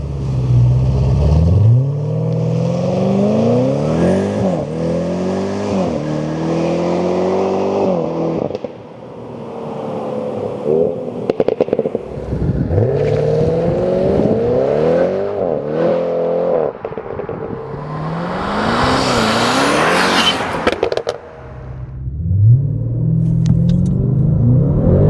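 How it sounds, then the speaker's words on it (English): A 1000hp Audi RS6 GT launches and accelerates hard, its turbocharged engine revving up through several gears with rising pitch sweeps, brief dips at each shift, crackles on the overrun and a loud final surge near the end. "just note how the car just shoots away when the turbos kick in a bit after that."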